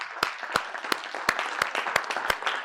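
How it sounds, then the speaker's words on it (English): Congregation hand clapping in a steady, evenly spaced beat of sharp, loud claps, with scattered looser applause and faint voices between the strokes. "Give me a hand clap."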